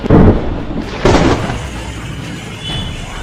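Loud thunder cracks twice in quick succession over heavy rain in Nalagarh, an industrial area of Himachal, then a long rolling rumble and steady downpour follow.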